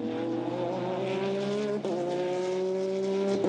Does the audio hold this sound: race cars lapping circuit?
yes